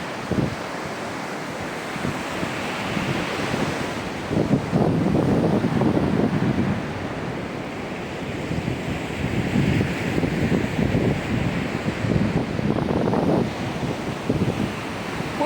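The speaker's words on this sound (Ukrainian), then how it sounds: "Покажу вам море яке сьогодні." Waves roll and break on the Italian sea under strong, stormy wind, a loud, continuous surge of surf with gusts buffeting the microphone and swells building and receding in repeated waves.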